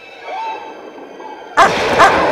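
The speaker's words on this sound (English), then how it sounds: "it's my dog" A dog barks twice in loud, close yips after a quiet stretch of soft tonal background sound, with the second bark coming about half a second after the first.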